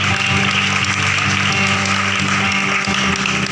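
A large church congregation claps loudly and continuously for Jesus, a dense, even roar of applause filling the whole stretch.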